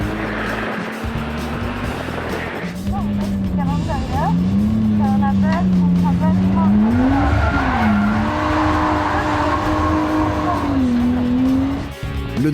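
A drift car sliding through bends on a track, long wavering tire squeals over a revving engine roar, the pitch swooping as it changes direction, with a voice talking over it.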